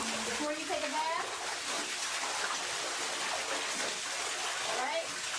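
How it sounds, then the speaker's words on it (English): Water splashing and swishing around a bathtub as it is rinsed out and mixed with a broom, a steady broad wash of sound close by with faint voices underneath. "This is how you rinse the tub out."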